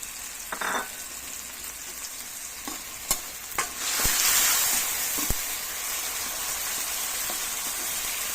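Sardines sautéing with mung beans in a pan for a simple ginisang monggo give a steady frying sizzle, with a few sharp clinks and stirring scrapes early on, and the hiss swelling louder about midway.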